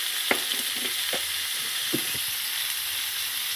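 Tomato sautés in sesame oil for a country-chicken fry, a continuous bright sizzle with several soft clacks and scrapes of stirring scattered through it, close and unbroken.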